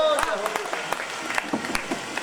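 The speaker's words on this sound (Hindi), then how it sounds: "आप लोग भी जोरदार तालियां बजाइए।" An audience at an outdoor Hindi poetry recital during a town fair claps briefly with scattered sharp hand claps. A voice speaks clearly over the clapping.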